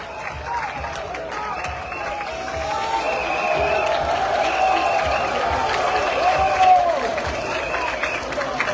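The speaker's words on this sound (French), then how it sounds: "Écoutez les ovations de Casablanca pour Bertrand Traoré." A stadium crowd in Casablanca applauds and cheers Burkinabé player Bertrand Traoré at a Burkina Faso vs DR Congo friendly, a steady roar of clapping that swells slightly, with a commentator's voice over it.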